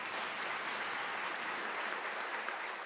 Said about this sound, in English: I think you deserve a round of applause for yourselves.